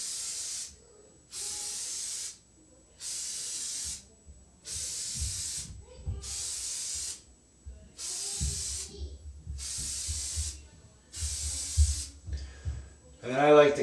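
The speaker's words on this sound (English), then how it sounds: "spray just nice and evenly along the pleats" Eight evenly spaced hissing bursts from a spray can spraying oil onto a K&N air filter's pleats, each lasting about a second, close up, with soft handling noises in between.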